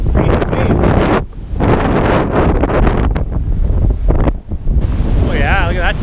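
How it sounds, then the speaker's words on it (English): Crashing ocean surf and strong wind buffeting the microphone at a beach in Varadero, Cuba, a loud continuous roar of breaking waves with gusts that briefly drop out, and faint voices briefly audible. "Crazy waves."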